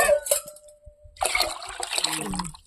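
Water poured from a vessel into a pot while cooking ragi kali in a village kitchen, a brief splash and trickle after a quiet pause, close and moderately loud.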